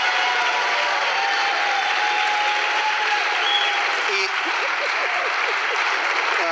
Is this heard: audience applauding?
yes